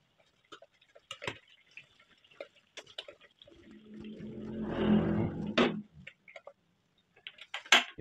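Liquid poured into a hot pan while cooking a shredded tuna stir-fry, a brief sizzling rush swelling midway amid scattered clicks and taps of kitchen utensils.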